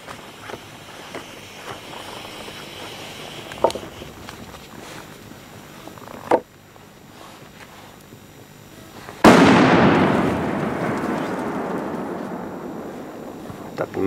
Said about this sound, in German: HE008 von Hestia. Klassischer Polenböller.